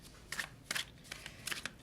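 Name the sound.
tarot cards being shuffled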